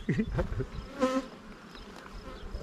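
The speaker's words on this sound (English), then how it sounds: "And this hive was angry when we got it back." Honey bees swarm around an opened backyard hive, their faint buzzing drifting close in a few short swells.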